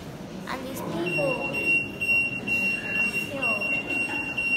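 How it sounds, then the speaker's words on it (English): Electronic beeping from an alarm-style device inside a gallery of Renaissance paintings, with a steady high tone that runs through the space under ongoing talk and crowd murmur. "this beeping noise is kind of annoying."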